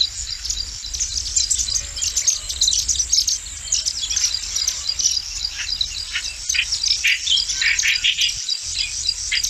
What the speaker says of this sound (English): That's an India silverbill.